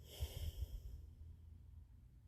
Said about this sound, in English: Exhale through the nose